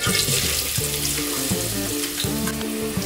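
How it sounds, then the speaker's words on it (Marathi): Chopped onion hits hot oil in a large pot for a red-masala chicken sukka, giving a steady, close sizzle that runs throughout under a faint tonal background. "तेल गरम झालेलं आहे, तेलामध्ये कांदा घालूया"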